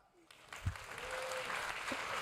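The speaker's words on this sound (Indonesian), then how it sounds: "Mari kita kasih tepuk tangan buat song ministry kita" A church congregation begins applauding the song ministry, quiet at first, then clapping swells into a steady wash of applause, with a faint tone and a voice underneath.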